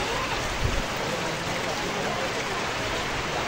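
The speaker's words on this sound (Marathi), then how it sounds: "पाऊस हा चालूच आहे अजून" Heavy rain pours steadily on a hillside trail near Sudhagad Fort, a dense, even hiss with no break and no voices.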